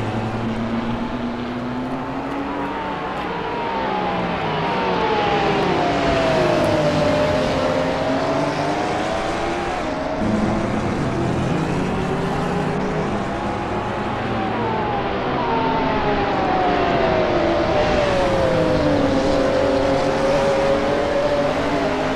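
Race cars, including an Audi R8 and a Porsche 911 GT2, roar through the Nordschleife in a racing video game, engines droning loudly with rising and falling pitch sweeps as they shift and pass.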